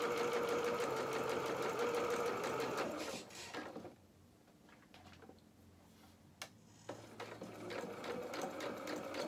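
A sewing machine stitches a trouser seam with a 1 cm allowance, its rapid needle clatter running close and steady, stopping for a few seconds of near quiet, then resuming.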